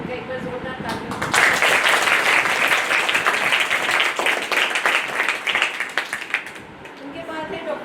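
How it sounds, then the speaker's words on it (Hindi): An audience at a health talk event breaks into loud applause, the clapping swelling quickly and holding strong before tapering off unevenly toward the end. "तो मैं चाहूँगी कि आप इनका एक बार जोरदार तालियों।"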